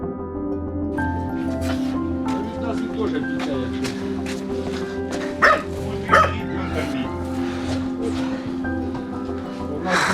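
A dog barks repeatedly in short sharp bursts, several louder yips standing out, during an evacuation from shelling in the Kharkiv region, with people talking over a droning engine hum.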